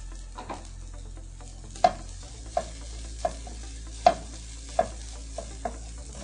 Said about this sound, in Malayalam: കോക്കനട്ട് ഒന്ന് ഡ്രൈ ആവുന്നത് വരെ ഒന്ന് ഇളക്കി കൊടുക്കാം.